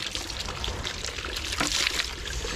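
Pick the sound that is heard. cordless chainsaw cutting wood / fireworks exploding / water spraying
water spraying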